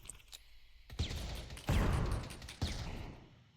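A flashbang grenade goes off in the VR shooter Echo Combat: a sharp burst at about one second, then a heavier blast with a lingering roar and a third pop, moderately loud and with no talk.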